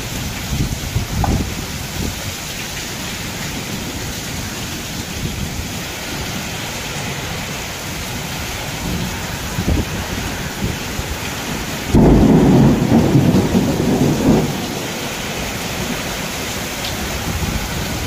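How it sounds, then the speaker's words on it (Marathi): A torrential downpour roars steadily and loudly, while a heavy thunderclap bursts in midway and rumbles for a couple of seconds before the rain carries on alone. "तुफान पाऊस चाललाय."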